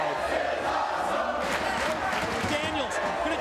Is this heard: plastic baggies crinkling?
no